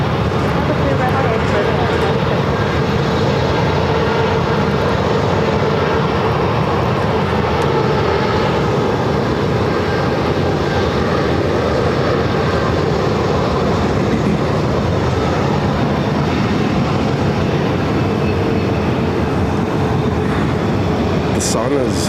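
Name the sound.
airplane landing at Phoenix airport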